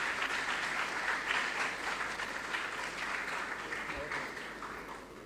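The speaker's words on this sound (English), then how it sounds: "Give them a hand of applause." Sustained applause from a school audience greeting contestants at a regional junior science and maths quiz, dense even clapping that gradually tapers off.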